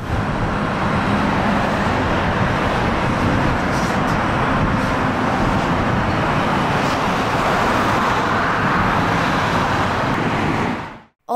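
Dense road traffic on the Ankara-Samsun D-200 highway near a Kırıkkale junction during holiday congestion makes a loud, steady broadband roar of passing vehicles for about eleven seconds, then cuts off abruptly.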